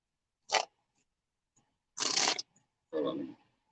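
Playing cards being shuffled at a psychic reading session: three separate crisp riffling bursts, a short one followed by two longer ones, heard close and clear against near silence.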